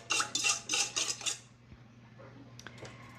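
A whisk clinks rapidly against a bowl as sugar is mixed in, a run of bright metallic scrapes that stops after about a second and a half, followed by faint handling noises.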